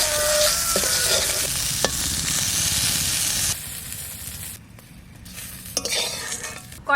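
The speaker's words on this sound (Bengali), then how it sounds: "পাহাড়ি লঙ্কা ডললে খোসানি, এটা ভেজে নেব।" Hill chillies fry in hot oil in a pan with a loud, steady sizzle and hiss, then the sound drops midway and flares again with crackling toward the end; no one speaks.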